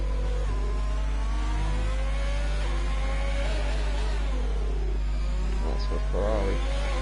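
Race car engine in a racing video game on the Singapore circuit, rounding the final chicane: a steady loud engine whine with rising and falling revs as gears shift, continuous throughout with no voices.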